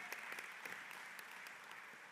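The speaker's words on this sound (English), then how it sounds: "that's worth clapping for sure" A union meeting crowd claps during a president's report, a faint, steady patter of many hands with scattered sharper claps, heard from a distance and continuing without break.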